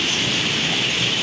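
Heavy rain pouring down during a storm, a steady dense hiss of close, loud downpour with no pauses or voices.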